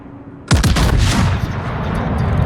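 Naval gunfire in World of Warships: a sudden loud salvo erupts from quiet, with a few stacked heavy booms that roll off into a sustained rumbling tail.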